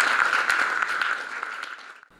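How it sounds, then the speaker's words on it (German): Short burst of audience applause in a studio setting, a bright, even wash of clapping that holds for about two seconds and then drops away quickly into near silence. "Applaus."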